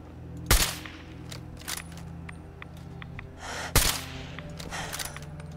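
Two sharp, loud gunshots at turrets in Fallout 4, a few seconds apart, with a couple of softer shots between them over a low game background.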